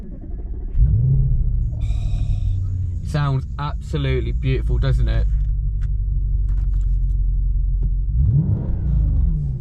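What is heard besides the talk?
Audi RS5 V8 engine cold start and revving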